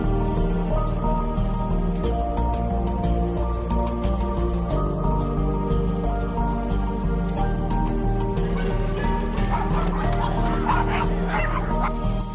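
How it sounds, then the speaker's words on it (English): Many dogs at a dog refuge barking, yipping and whimpering together in a dense, continuous, loud chorus, with sharper higher yelps rising near the end. "It's hard to believe there are 22 dogs in here right now."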